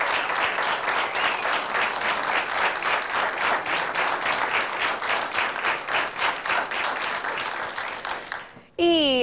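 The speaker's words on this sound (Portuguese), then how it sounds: "Uma salva de palmas para eles." A television studio audience on a Portuguese health talk show claps steadily and loudly for about eight seconds with a fast, even rhythm, then the applause stops abruptly and a voice begins.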